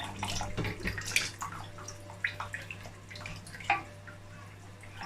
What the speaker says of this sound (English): So I'm adding my stock. I'm sifting it as I said earlier.